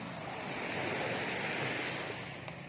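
Sea waves wash onto the shore at Paraiso in Oriental Mindoro, a continuous broad surf roar swelling and easing with some wind noise on the microphone, with no one talking.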